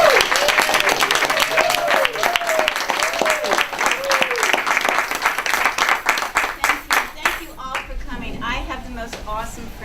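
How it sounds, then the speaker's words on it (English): Audience at a book launch applauding, a dense burst of many hands that thins into scattered claps, while voices call out and speak over it. "let's give a round of applause for Jeannette."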